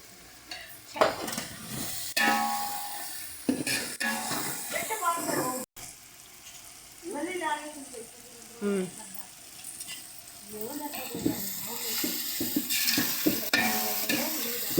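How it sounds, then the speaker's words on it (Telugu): Chicken pulao masala frying in a pan, spoon scraping and stirring over a sizzle, with talk coming and going throughout and a brief pause partway. "చూసారా, అలా బాగా ఫ్రై చేసుకోవాలి"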